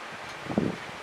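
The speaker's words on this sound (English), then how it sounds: "Wow, hello wind." Outdoor wind blows on a hot day, a soft steady rustling wash with one brief gust in the middle, close to the microphone and without talk.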